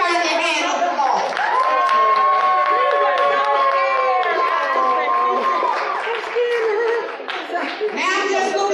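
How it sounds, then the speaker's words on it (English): Dance contestants are applauded by an audience, with claps and crowd noise running under loud, high children's voices and cheering shouts that stay busy throughout. "let's first give everybody a hand of applause."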